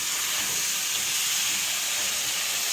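Tomatoes dropped into a hot pan while cooking a peanut and tamarind-leaf chutney, giving a steady, close, broadband sizzle and hiss of steam that holds evenly throughout with no talking.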